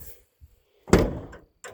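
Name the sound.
door of a 1978 Dodge D100 truck closing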